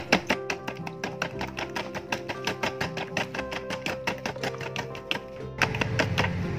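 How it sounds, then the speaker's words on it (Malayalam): Powdered sugar being whisked with a couple of teaspoons of melted ghee in a bowl for a milk cake; quick, rhythmic tapping strokes of the whisk against the bowl, steady and close, with no talk. "ഇത് നന്നായിട്ടൊന്ന് അടിച്ചെടുത്ത്"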